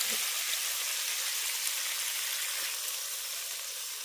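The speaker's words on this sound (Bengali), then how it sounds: "ভালো করে মশলার সঙ্গে ভেজে রাখা আলুটা কষিয়ে নেওয়ার পর আমি এর মধ্যে দিয়ে দিচ্ছি জল" Water goes into potatoes being fried with spices, producing a soft, even hiss and sizzle like light rain that stays steady and fairly quiet, fading slightly toward the end.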